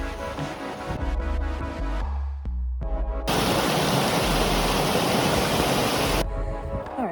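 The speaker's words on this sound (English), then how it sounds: "I found another waterfall!" Broadband rushing water of a waterfall in the Scottish Highlands in the rain, a steady roar that swells loudly and continuously for a few seconds after a quieter stretch with some music-like tones.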